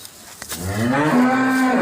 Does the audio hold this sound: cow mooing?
yes